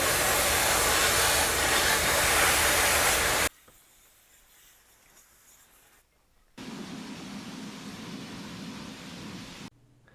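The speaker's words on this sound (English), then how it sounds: "I'm taking a Rolock disc here on the die grinder and some sandpaper, and I'm just blending in the old paint" Die grinder with a Roloc sanding disc blending old paint on an aluminum wheel: a loud steady whirring hiss, a drop to near quiet, then a second somewhat softer sustained run that cuts off abruptly.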